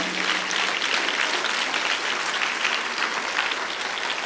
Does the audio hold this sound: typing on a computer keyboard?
no